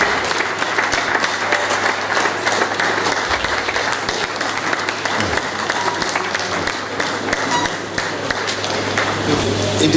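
A conference hall audience keeps clapping steadily after a keynote address at a Nigerian pharmacists' association meeting, a broad, even wash of applause lasting throughout.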